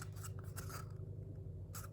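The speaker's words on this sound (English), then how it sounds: "you're going to get your scissors and you're going to cut up the side" Scissors cut paper in a few quiet snips and scraping strokes over a low steady hum, faint and close, with no talking.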